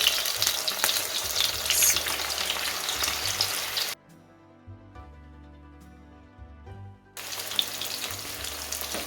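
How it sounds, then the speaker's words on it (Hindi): Chapli kebabs fry in a pan with a steady, dense sizzle and crackle, which cuts out briefly partway through and then resumes at full strength; no talking. "इसी तरह से हम कबाब बनाते जाएंगे और डालते जाएंगे पैन में।"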